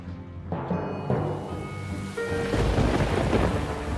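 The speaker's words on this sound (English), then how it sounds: "One night, a thunderstorm puts Morabito's theory and the surviving drain to the test." A thunderstorm breaks over the Colosseum in Rome, with rolling thunder building beneath steady rain that grows heavier and louder toward the end.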